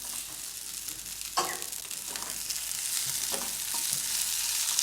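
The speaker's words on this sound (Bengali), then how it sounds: "আলুটাকে একটু নেড়ে চেড়ে নিলাম।" Chopped potatoes with green chillies sizzling in a pan, a continuous hissing fry broken by scraping stirs of a spatula, close and steady with no talking.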